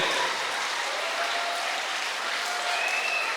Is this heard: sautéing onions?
no